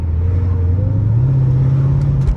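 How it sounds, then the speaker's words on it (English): A 2004 Mercedes E55 AMG with a blown supercharger bearing runs with a loud, close engine drone, a low whine rising slightly in pitch, and an airy sucking rush over it. "that sucking of air slash whine of the supercharger"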